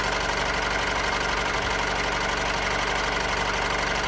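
A 2014 Honda CR-V 2.2 diesel engine idles close by, a continuous even rumble with a faint ticking texture and no changes in pace, no voices.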